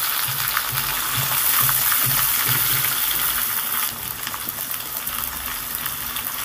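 Long-cut potato slices hit hot oil tempered with black cumin seeds, giving a close, steady sizzle and crackle with faint rattling movement in the pan.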